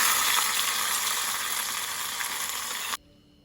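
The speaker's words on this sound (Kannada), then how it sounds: "ಈಗ ಈ ಒಗ್ಗರಣೆಯನ್ನು ಕುದಲಿಗೆ ಸೇರಿಸ್ಕೊಳ್ತೇನೆ" Loud, steady sizzling as a hot oil tempering hits a tangy chilli curry, a dense hiss that cuts off abruptly near the end, leaving quiet.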